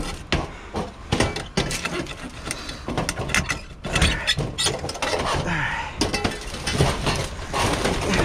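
Ratchet wrench working a bolt loose while rummaging through a dumpster, with repeated clicking, knocking and scraping bursts close by amid rustling debris.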